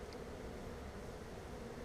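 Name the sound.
bees flying in and out of the hive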